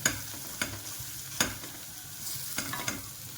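Ginger garlic paste sizzles in hot oil in a pot for an egg spinach curry, a continuous frying hiss broken by sharp clicks of stirring.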